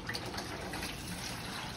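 Water running from a kitchen tap, a soft, steady hiss and trickle heard faintly and close by, with no talk.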